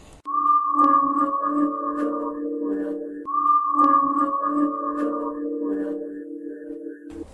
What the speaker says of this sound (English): That's whistling into a little sewer drain